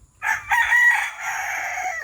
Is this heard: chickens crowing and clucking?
yes